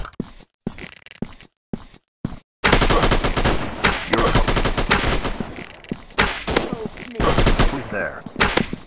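Gunfire in a mobile 3D counter-terrorist shooting game on Android, with a few sparse shots followed by sustained loud bursts of rapid automatic fire, close and dense, while a game voice calls out over the shooting.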